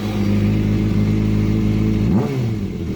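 A wrecked 2004 Yamaha R1 motorcycle engine runs at a steady, loud, close idle, then gives one sharp rev near the end that quickly drops back.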